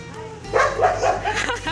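A dog gives a few short, yappy barks close by, mixed with a human voice.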